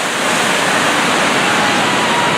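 Ocean surf breaking on Santa Monica Beach, Los Angeles, a loud, steady wash of white noise that fills the whole moment with no pauses.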